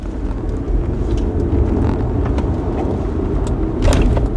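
A BYD Sea Lion 7 electric car with over 520 hp accelerates hard in sport mode, giving a steady loud low whoosh of road and wind noise from inside the cabin, with no speech.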